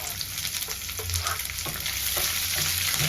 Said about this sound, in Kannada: ಆನಿಯನ್ ಚೆನ್ನಾಗಿ ಫ್ರೈ ಆಗಲಿ.